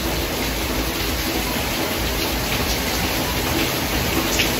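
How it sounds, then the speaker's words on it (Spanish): Rain falls outdoors as a dense, even hiss that stays constant throughout, with a faint high tone running over it and no voices. "Desafortunadamente empezó a llover."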